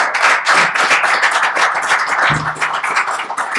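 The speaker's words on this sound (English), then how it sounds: "I think we should give these 2 candidates a round of applause" An audience at a Killington selectboard candidates' forum claps for two candidates, a dense, loud and steady burst of many hands lasting a few seconds, with no talking.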